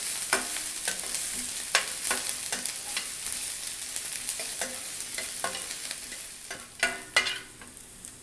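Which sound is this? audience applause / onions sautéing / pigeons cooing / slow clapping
onions sautéing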